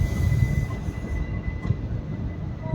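A Howrah Gaya Express train with its locomotive rounds a curve, wheels rumbling with a thin, sustained metallic squeal over the rail clatter, close and continuous.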